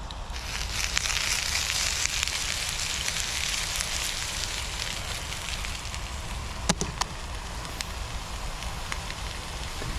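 Sausages sizzling in a pan on a camping stove outdoors at dusk, a steady close crackling hiss running the whole time, with a few brief sharper clinks near the end.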